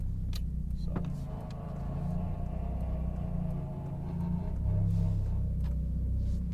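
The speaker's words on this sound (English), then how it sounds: "when I take left turns, it rubs the plastic inner liner" The front wheel of a low-sitting car rubs against the plastic inner liner during a left turn, a continuous low scraping rumble mixed with road and cabin noise, heard from inside.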